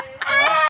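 A village native chicken squawks once, loud and close, as it is caught during a Pongal celebration.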